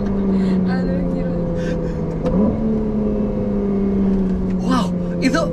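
A Ferrari 296 GTB hybrid sports car, rated 830 hp, accelerates on a Jakarta road, its engine tone rising steadily and loud throughout, with short voice bursts over the steady drone.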